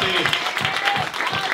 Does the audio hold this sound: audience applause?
yes